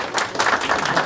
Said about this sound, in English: Maybe a quick round of applause for that.